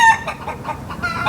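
A chicken clucks in a quick run of several close, loud, choppy calls, with no talk over them.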